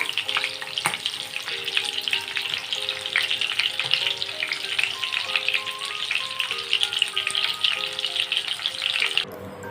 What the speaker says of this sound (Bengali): ভালো করে ভেজে নিতে হবে পেঁয়াজগুলো